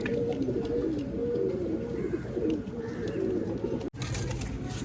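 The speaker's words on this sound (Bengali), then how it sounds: "শেষে এইটাই একটা শেষ পায়রা দেখাচ্ছি আর কি" Madrasi pigeons in a loft give repeated low, throaty coos that overlap in a steady murmuring chorus, close and moderately loud, with a brief dropout near the end.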